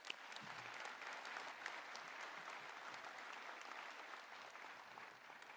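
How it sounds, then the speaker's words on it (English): A graduation ceremony audience at Whitireia and WelTec gives a long, steady round of applause, a dense, even wash of clapping that holds for several seconds at moderate distance before tapering slightly at the end. "Can we please give Lorraine one big round of applause?"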